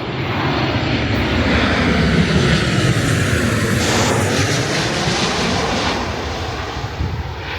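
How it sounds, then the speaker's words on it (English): Ryanair passenger plane coming in to land, a steady, loud broadband engine roar that holds for several seconds and eases slightly at the end, with no talking. "Another Ryanair, 10 a penny Ryanair flights"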